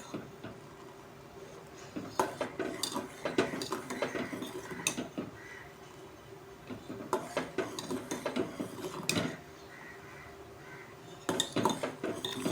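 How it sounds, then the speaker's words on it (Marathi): A spoon scrapes and clinks around a pot of simmering rice kheer in quiet, irregular strokes, with soft metallic taps and scrapes spread through and no talking. "खाली लागू नये म्हणून ढवळत राहायचं।"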